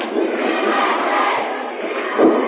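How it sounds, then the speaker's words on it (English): A wrestling crowd in Portland roars and chants USA, a dense, sustained wall of massed voices swelling slightly near the end. "Crowd once again with that USA chant."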